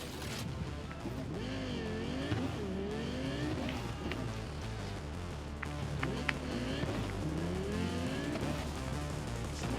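A car driven in a video game set in the Dogtown district, with quiet engine drone rising and falling in revving sweeps and brief tire-squeal bursts throughout.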